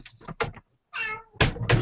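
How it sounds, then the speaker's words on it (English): A housecat meows several times in quick succession, close and clear, with short pauses between cries and a longer drawn-out meow in the middle; no one speaks. "I know, you're a needy cat."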